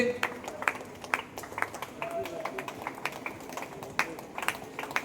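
A crowd claps at a football tournament as the match ball is brought in by a remote vehicle: scattered, uneven claps keep going under steady talk over a loudspeaker.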